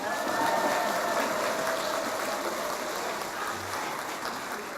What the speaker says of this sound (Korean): 여러분 뜨거운 성원의 박수를 보내주시기 바랍니다